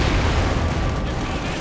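Gunfire in the strategy game Company of Heroes 2, a dense rumbling barrage of shots and blasts running without a break, loud and muffled, with no clear separate reports.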